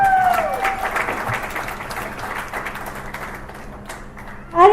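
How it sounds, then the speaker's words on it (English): Wedding guests clap for the maid of honor, steady moderate applause under a fading voice at first, tapering off before a speaker begins talking at the end. "how about a big round of applause for the maid of honor"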